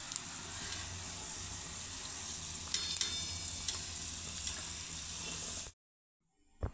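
Sago and potato chakli frying in hot oil, a continuous dense hiss and bubbling sizzle heard close, with a few brighter crackles, ending abruptly in near silence.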